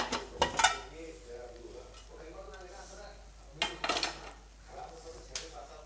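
Metal idli plates lifted out of a hot pressure cooker, several sharp clanks and scrapes of metal on metal in two bursts, close and fairly loud, with quieter handling between them.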